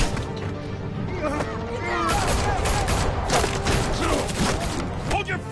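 Gunfire in a Batman video game, heard as a dense, sustained volley of loud shots and crashes packed into a continuous roar, with a voice shouting through the noise.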